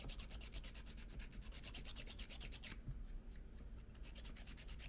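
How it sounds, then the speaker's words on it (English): A hand-made bamboo tool is sanded with a small strip of sandpaper: steady, close rhythmic rubbing strokes, dense and even, that thin out and lighten near the end. "and just sand it down."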